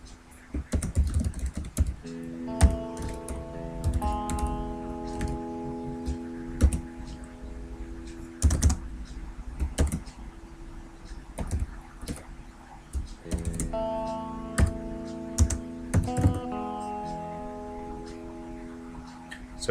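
Fingers type on a computer keyboard in quick bursts of soft clicks, close and fairly quiet, with pauses between runs and a faint background tone.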